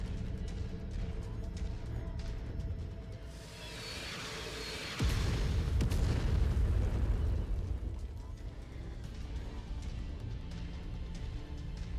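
A large explosion in the MechWarrior 5 mech combat game, Shadow of Kerensky expansion, erupts about five seconds in as a deep, loud boom that swells into a long rumbling roar. The roar stays heavy for several seconds over quieter game background noise.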